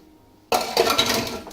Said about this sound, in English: We're going to add our water slowly.